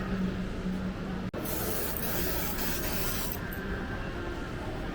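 Sunscreen spray bought in Japan, released in a continuous loud, broadband hiss lasting several seconds with one brief break near the start.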